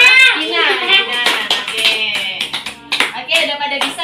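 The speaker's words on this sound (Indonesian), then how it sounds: "Oke, beri tepuk tangan untuk Kenzi" A classroom claps for a student during an English lesson. Quick, uneven hand claps come through under continuous children's and adult voices.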